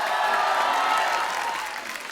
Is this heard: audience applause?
yes